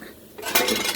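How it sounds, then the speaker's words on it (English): A copper chef pan clanks and clinks against other cookware as it is pulled out and handled in a home kitchen, a short, close metallic clatter. "let me see if I can find another pan."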